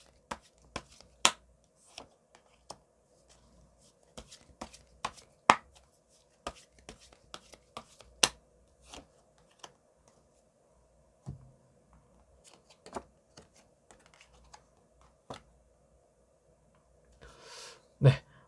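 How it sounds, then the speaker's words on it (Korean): Tarot cards are handled close up with a series of sharp, irregular taps, flicks and slaps as the cards are shuffled and drawn, then a brief rustling burst near the end, with no talking. "카드를 뽑아보도록 할게요."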